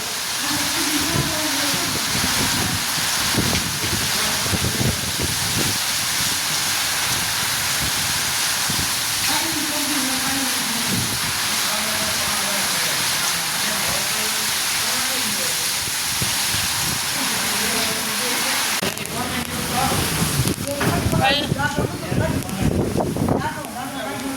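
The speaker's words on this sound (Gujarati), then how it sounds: "ફૂલ પવન સાથે વરસાદ આવ્યો" Steady, dense rain with hail hisses throughout, with low gusty rumbles of strong wind underneath and brief voices surfacing now and then near the end.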